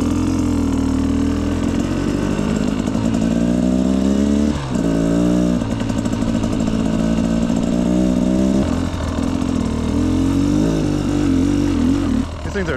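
A 2025 Beta XTrainer 250 two-stroke motorcycle ridden slowly, its engine buzzing steadily up close and rising and falling in pitch through gentle throttle changes and gear shifts.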